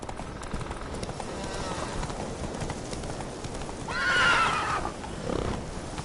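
Roach the horse in a PS4 video game, hooves clip-clopping steadily at a gallop with a loud, ringing whinny rising near the middle, heard over a constant noisy game backdrop.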